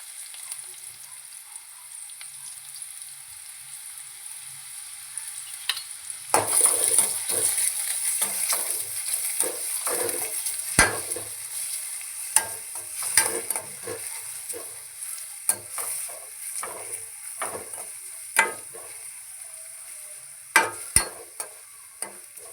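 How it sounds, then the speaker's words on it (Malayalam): Chopped chicken dropped into hot oil for ghee rice, crackling and sizzling steadily after a quiet start, with frequent sharp clinks and scrapes of a spoon stirring against the pan, no talking. "ഇനി നമുക്ക് ഇതേ എണ്ണയിലേക്ക് തന്നെ അരിഞ്ഞു വെച്ചിരുന്ന ചിക്കൻ ഇട്ട് കൊടുക്കാം"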